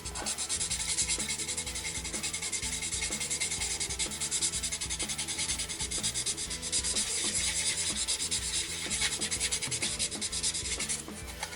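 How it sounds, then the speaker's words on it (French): Steady, continuous sanding of a 1/24 scale Heller Ferrari 365 GTB plastic model car body with 600-grit paper, close and even with a rhythmic rubbing texture throughout, no voices. "là je vais poncer en 600. Voilà, en 600 et je ferai tout le reste de la carrosserie en 3000"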